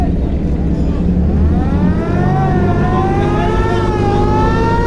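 A passenger launch's engine at Barishal ghat drones loud and close as it shifts into reverse gear, its steady rumble climbing in pitch, while a voice speaks over it.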